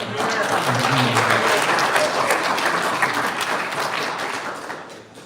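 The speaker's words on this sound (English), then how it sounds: "let's all really just give him a round of applause" An audience at a real estate investing talk breaks into sustained applause, a thick wash of many hands clapping that fades slightly at the end.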